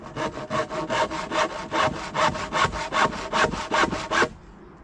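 Hand saw cutting timber for a raised garden bed, about fifteen even rasping strokes in a steady rhythm, close and loud, then it stops.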